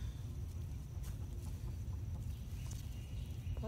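Chickens eating banana bread cluck softly nearby amid low background rumble, with scattered short clucks and scratching sounds.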